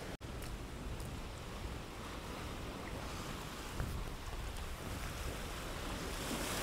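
Sea surf washes continuously against a rocky shore, a steady broadband roar with wind buffeting the microphone and a brief surge midway; no voices are heard.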